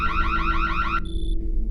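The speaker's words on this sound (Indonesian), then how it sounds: "Karena terlalu banyak salah memasukkan kode, alarm pun berbunyi." An electronic security alarm sounds after a code is entered wrong too many times. A loud, rapidly warbling tone pulses for about a second, then stops abruptly and leaves a brief steady beep.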